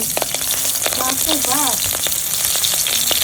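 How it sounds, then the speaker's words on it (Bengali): Green chillies and nigella seeds sizzle in hot oil for a Bengali steamed hilsa dish, a steady close frying crackle that holds throughout, with a few brief tonal clinks in the middle. "এই দুটো কাঁচা লঙ্কা ফোড়ন দিচ্ছি একটু কালো জিরে ফোড়ন দিচ্ছি"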